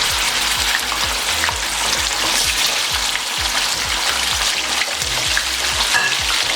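Half a kilo of chicken frying with spices for biryani sizzles loudly and steadily in the pot, with rhythmic scraping stirs underneath, close and continuous without any talk.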